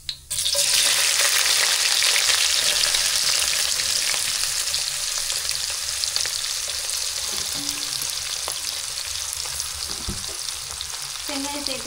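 Onions and fennel seeds frying in hot oil for a spicy crab gravy, a loud sustained sizzle that starts abruptly and holds steady throughout, with occasional faint utensil taps and no talking.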